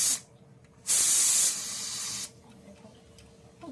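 A pressure cooker on a home gas stove vents steam in a loud, steady hiss lasting about a second and a half, then drops to a softer, sustained hiss before stopping.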